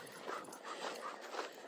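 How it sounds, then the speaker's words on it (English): A dog on a hiking trail, heard as a few soft whimpering yelps and breathy whines, fairly faint and at a middle distance, over steady outdoor background noise. "just let that dog run back to his owner"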